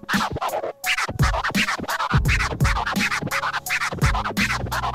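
Scratch pattern triggered on a Pioneer DDJ-REV1 Serato DJ controller, loud rhythmic chopped record scratches cutting over a thumping beat with no talking.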